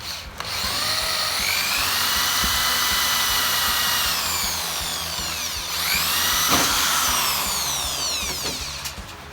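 Power drill with a 3/16 bit boring out rivets in a Hobie Cat sailboat mast, a loud close whine running steadily for about nine seconds, its pitch sweeping up and down as the bit bites and frees through the metal.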